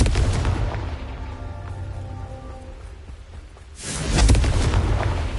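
A Confringo fire-blast spell in Hogwarts Legacy on PS5 unleashes a loud, rumbling explosive burst that swells and lingers, following a sustained roaring wash of game effects, with no talk.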